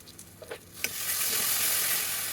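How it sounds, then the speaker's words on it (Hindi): Masala with tomato paste hitting hot oil in a pan, a few stirring taps and then a sudden bright, loud sizzle that holds steady and close to the end. "हमें 2-3 मिनट के लिए हमारा मसाला भूनना है।"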